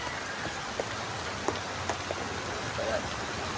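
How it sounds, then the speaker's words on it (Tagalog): Heavy typhoon rain pours down steadily onto surfaces nearby, a dense, loud, unbroken hiss with a few sharper drop impacts scattered through it. "Pero malakas ang ulan guys."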